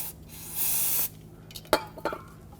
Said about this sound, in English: If there is any, you can use some brake parts cleaner and rinse it